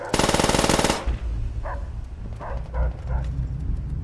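A loud burst of machine-gun fire opens the moment in a Call of Duty match. Attack dogs then bark in short, separate yelps amid the lingering game noise.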